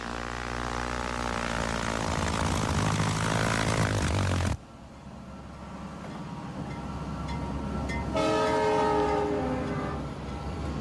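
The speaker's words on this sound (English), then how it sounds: "Look down there! I see his train!" A train rumbles past loudly with its horn blaring in a long sustained blast, cutting off abruptly, then the rumble builds again and a second horn sounds before fading slightly.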